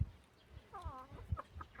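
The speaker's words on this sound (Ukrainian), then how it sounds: "Стільки курей і кожен день по два яйця несуть." Chickens cluck softly nearby in a farmyard, a few short, faint clucks and a brief rising call.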